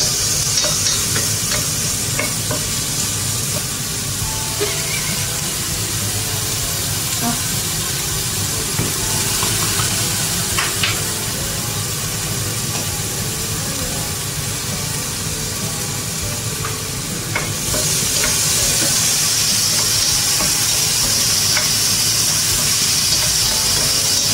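White onion and garlic sauté in a pan for lumpia, a steady broadband sizzle with occasional stirring scrapes running throughout, loud and close, briefly dipping and then intensifying near the end.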